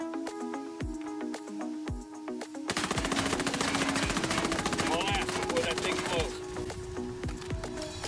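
A Scorpion EVO 3 submachine gun empties a full magazine into a vehicle in the video game Ghost Recon Wildlands: a dense, loud, rapid automatic stream of shots lasting several seconds, bracketed by isolated single shots and clicks over a steady musical background.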